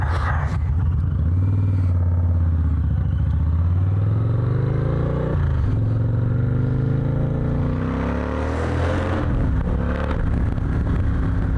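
Harley-Davidson motorcycles running nearby with a deep rumbling idle and several revs climbing in pitch, loud and close.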